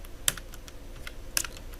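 Light, irregular clicking of a computer keyboard as skills are typed into a LinkedIn profile, soft close keystrokes with two sharper taps standing out and no speech.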